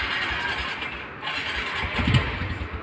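A motorcycle engine starts and settles into a warming idle, a close, steady rumble with a slight rise in revs near the end and no talk over it.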